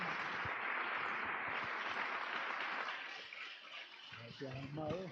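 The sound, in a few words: audience applause in church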